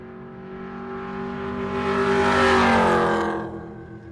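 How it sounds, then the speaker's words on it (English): A 2003 GMC Sierra truck's engine roars at a race track, rising in pitch and loudness as it passes close, then fading, with no voices. "Hunter Heyman is driving a 2003 GMC Sierra."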